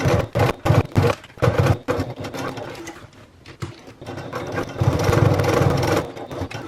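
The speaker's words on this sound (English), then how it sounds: "At the sewing machine, we're going to top stitch along the bottom edge of the trim" A sewing machine top stitches along the trim of a travel bag, running in short rapid bursts, then pausing and resuming with a longer steady whirring run, close and clear.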